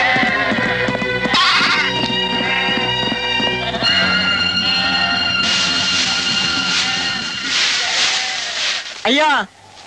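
Goats bleat in a Tamil film scene, wavering cries layered over busy music, with a sharp final bleat near the end.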